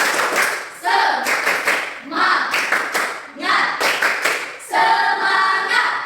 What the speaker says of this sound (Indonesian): Tepuk semangat untuk si Elfrida.